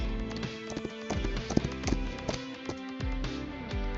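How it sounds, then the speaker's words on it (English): A horse trots along a track in the video game Love and Deepspace, its hooves clip-clopping in a steady, quick rhythm over a continuous layer of background music. "At my gentle command, the horse slightly trots along the horse track."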